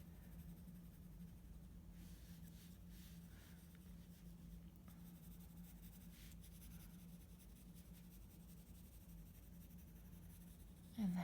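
A pencil drawing a portrait with very light pressure gives a faint, steady scratching that runs continuously under a low hum, quiet and close.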